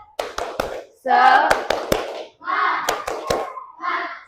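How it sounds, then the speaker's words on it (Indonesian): An elementary class does a rhythmic clapping cheer, sharp claps in quick patterned bursts alternating with children's chanted voices, close and lively. "Kita tepuk semangat dulu ya. Tepuk semangat."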